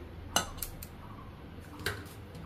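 Bhetki fish pieces are being coated in a beaten marinade in a bowl, giving a few sharp clinks of utensil against dish over a quiet kitchen background.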